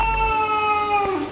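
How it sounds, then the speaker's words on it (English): A pet cat lets out one drawn-out, tonal meow, close to the microphone and fairly loud, holding steady for about a second before trailing off. "this is my cat Peppy."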